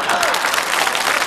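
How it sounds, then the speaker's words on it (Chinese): An audience at a live variety show claps in a dense, loud burst of applause that carries on steadily throughout. "既然掌声这么激烈"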